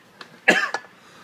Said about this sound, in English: Just a little cough attack.